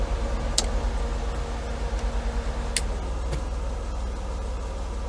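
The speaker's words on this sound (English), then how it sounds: "it's been a couple minutes and the low speed fans are still on" Low-speed engine cooling fans on a Mercedes W124 run with the engine going, a steady close drone with a faint pulsing hum and a few brief clicks, no voices.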